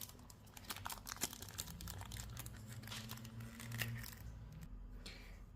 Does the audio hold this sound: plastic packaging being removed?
yes